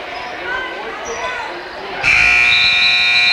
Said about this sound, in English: the buzzer's going to sound